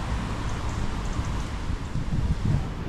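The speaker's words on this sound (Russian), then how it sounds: "ветер дует в Ялте." Wind gusts across the Yalta seafront in Crimea, a steady low rumbling buffet against the microphone with faint rustling, loud and continuous with no speech.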